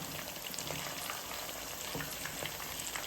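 Spicy chicken pakoda pieces deep-fry in hot oil, a soft continuous bubbling crackle that stays faint and even throughout, with no talk.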